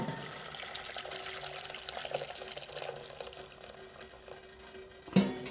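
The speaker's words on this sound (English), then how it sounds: "I need to add water right now." Water splashes from a tap into a pot of red lentil curry, a soft steady trickling near the microphone that ends in a brief louder splash, with no talk.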